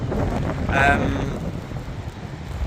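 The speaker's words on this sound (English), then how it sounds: "It's very wet, very windy." Strong wind buffets the microphone on a wet, stormy walk along Blackpool's north shore, giving a loud, gusty rumble that swells briefly and then settles. A voice is heard speaking over the wind.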